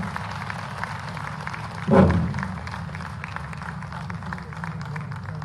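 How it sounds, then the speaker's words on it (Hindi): An auditorium audience at a national Ayurveda seminar in Bhopal applauds to welcome the Chief Minister. Steady, dense crowd clapping fills the hall, with a brief louder swell partway through. "जोरदार तालियों से सर का स्वागत करें"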